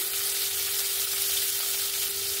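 Crushed garlic and chopped onion fry in hot oil, giving a steady, close, fairly quiet sizzle with a constant hiss and no talking.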